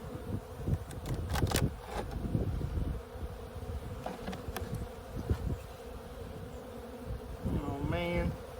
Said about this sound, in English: Bees. I've got a feeling that they're robbers from another colony.